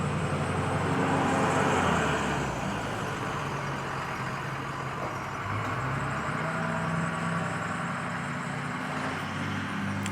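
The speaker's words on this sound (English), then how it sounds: "listen to this power stroke coming right here." A Power Stroke diesel pickup rolls past at moderate distance, its low engine rumble rising slightly and then fading under steady roadway hiss.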